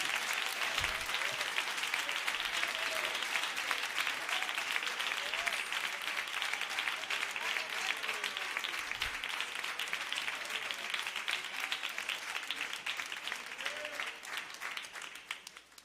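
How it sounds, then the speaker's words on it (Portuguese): Church congregation at a Pentecostal gathering claps steadily for an arriving speaker, a broad, even wash of many hands sustained for well over ten seconds before tapering off at the end, moderately distant. "Vamos recebê-lo com palmas que louvam o Senhor Jesus."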